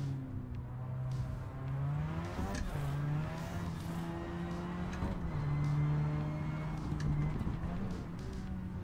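A street car's engine hums and revs in a drift video game after a downshift, its pitch rising and falling through gear changes with tire squeal, steady and close throughout.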